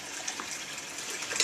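Water splashing and running during a newborn baby's first bath, a soft, steady trickling wash with a few small splashes, faint and close.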